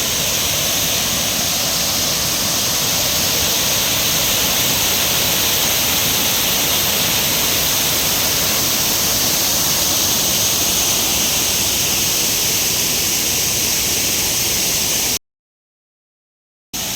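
Water roars in a steady broadband rush at Kumbhavurutty Falls in the Kerala foothills, loud and unbroken before cutting out abruptly near the end.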